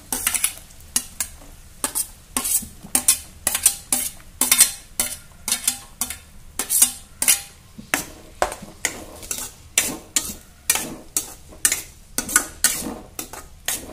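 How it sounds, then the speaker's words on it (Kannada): Onions frying in a pan with ginger-garlic paste and chillies, stirred with a utensil in steady rhythmic scrapes and clinks over a soft sizzle, close and fairly loud, with no talking. "ಸ್ವಲ್ಪ ಈರುಳ್ಳಿ ಎಲ್ಲ ಹುರಿಬೇಕು ನೋಡಿ."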